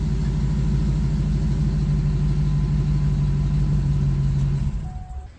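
A lawn tractor engine runs at a steady, loud idle with a low rumble and a constant hum, then tapers off near the end.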